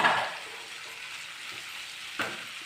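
A medium-sized sliced onion goes into a hot pan and sizzles: a bright hiss at the moment it lands, then a steady, softer frying crackle, with a brief clink of a utensil near the end.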